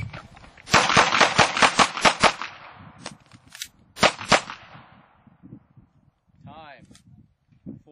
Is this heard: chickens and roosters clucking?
no